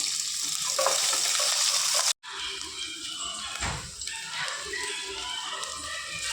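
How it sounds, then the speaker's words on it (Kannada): Onions frying in coconut oil in a pan, a steady close hiss of sizzling that cuts out for an instant before resuming, with a brief louder stir partway through. "ಇದಕ್ಕೆ ಸ್ವಲ್ಪ ತೆಂಗಿನ ಎಣ್ಣೆ ಹಾಕಿ ಈರುಳ್ಳಿಯನ್ನು ಫ್ರೈ ಮಾಡೋದು"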